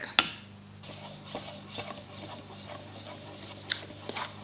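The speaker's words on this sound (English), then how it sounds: "the whole time I'm gonna be stirring my stain with my little dipstick here" A small dipstick stirs a can of wood stain for refinishing a honey oak cabinet, making quiet rubbing and scraping strokes against the can along with a couple of sharp taps, set over a low steady hum.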